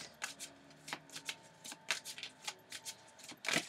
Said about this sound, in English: let me go ahead and pull the Romance Angel Oracle card to see what the final message is for this reading